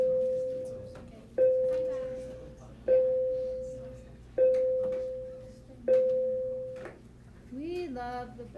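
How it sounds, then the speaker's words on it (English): A school bell rings five times at a steady pace, each ring a loud electronic tone that starts sharply and fades, heard in a classroom with quiet talk underneath. "we love the bell"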